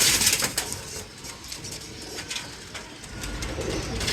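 Pigeons coo softly in a breeding setup, with low repeated coos over a faint background of rustling and fluttering, close by with no talking.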